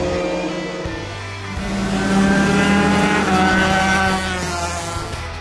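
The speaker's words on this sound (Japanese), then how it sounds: "今日はこちらのレーシングカートを紹介したいと思います" A racing kart at Shin-Tokyo Circuit, a kart-only track in Chiba Prefecture, with a high, buzzing two-stroke-style engine whine that rises and falls as it laps, swelling louder in the middle before easing, with no talk.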